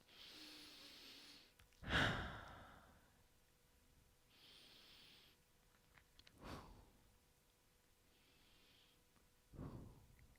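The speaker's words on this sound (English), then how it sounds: "Take 3 deep breaths." Slow, deep breaths during a yoga session for runners: four soft, airy inhale-exhale swells spaced a couple of seconds apart, close and quiet, with no talking.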